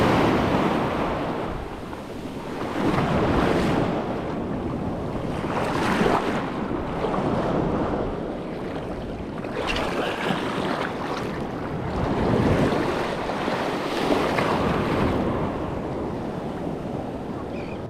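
Ocean waves break and wash onto a Florida beach near a fishing pier, a loud continuous surging roar rising and falling in swells, with heavy wind buffeting the microphone.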